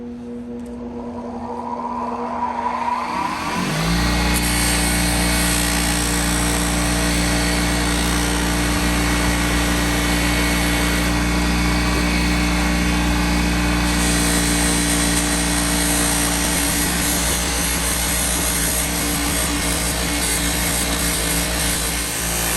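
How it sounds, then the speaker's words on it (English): A bench polisher spins up to full speed and grinds steadily against vintage 1960s Craftsman tools to strip corrosion, a loud, sustained whirring hum with a continuous abrasive hiss and no talk. "I'm gonna take it over to the polisher now and see what we can do"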